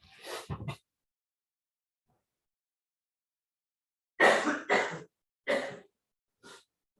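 A short burst of coughing at the start, then after a long silence several more separate coughs, close and fairly loud, with no talking.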